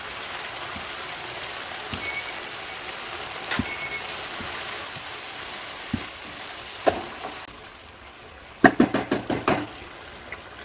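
Raw shrimp go into a pan of fried spice paste and salt, giving a steady, close sizzling hiss with occasional soft knocks, then a quick burst of sharp clattering taps near the end.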